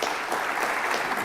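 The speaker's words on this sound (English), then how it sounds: "Let's give them a nice round of applause." Audience applause at a morning panel event in Houston, dense continuous clapping filling the whole short stretch.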